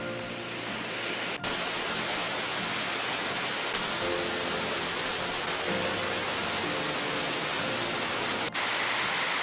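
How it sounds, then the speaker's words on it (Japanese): Imamado waterfall near Mount Ishizuchi in Ehime roars as a dense, steady, close rush of falling water, loud and unbroken throughout. "今窓の滝に到着しました。"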